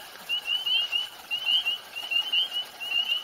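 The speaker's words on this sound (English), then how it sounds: "The American toad has that really long, sustained call." An American toad's long, sustained high trill repeating in pulses from the background of an outdoor frog chorus, steady and moderately faint with no talking.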